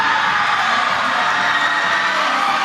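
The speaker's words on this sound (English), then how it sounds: "We can hear some cheering going on by the bars" A gymnastics meet crowd cheers near the bars, heard as a steady, fairly loud wash of distant voices and arena murmur with no distinct individual shouts.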